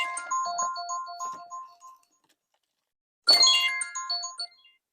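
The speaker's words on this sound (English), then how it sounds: "It's a phone call from Peru." A mobile phone ringtone for an incoming call, a bright chiming melodic pattern played close and clear, pausing for about a second before ringing again, with no talk over it.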